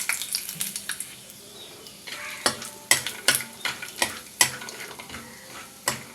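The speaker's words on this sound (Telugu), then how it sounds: "ఆయిల్ హీట్ అయింది ఇప్పుడు ఒక గుప్పుడు పల్లీలు వేస్తున్నాను" A handful of peanuts fries in hot oil in a pan, a soft sizzle broken by frequent sharp clicks and clatters as the nuts are stirred and tossed nearby.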